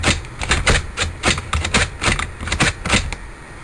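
A computer CD tray opening and closing on its own, triggered by a VBS script, heard as a run of rapid mechanical clicks and whirring clunks repeating at a steady rhythm, close and fairly loud.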